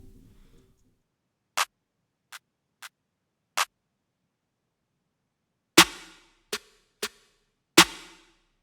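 Layered trap-beat hits, a reverb-tinged snare stacked with a clap, arrive as four sharp isolated strikes followed by four fuller, louder hits with short tails, each separated by silence.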